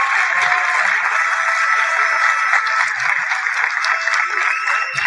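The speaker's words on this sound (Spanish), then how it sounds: "Un aplauso más grande para todos los participantes." A crowd at the Mister Chile 2023 pageant final applauds the participants in a loud, dense, sustained wash of clapping that holds steady throughout.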